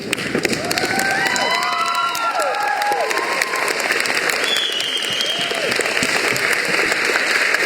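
A graduation crowd applauds family and friends, with sustained clapping mixed with scattered cheers, whoops and children's shouts rising over it, and the ovation holding steady throughout.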